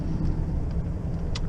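A Volvo truck rated at 420 with a 13-speed manual gearbox pulls a load of straw bound for a power station; its engine gives a steady, loud, close rumble throughout the brief moment.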